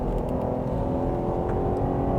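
A 2021 Jeep Grand Cherokee's 3.6-liter V6 pulls steadily under acceleration, a loud, continuous engine drone heard from inside the cabin with no talking.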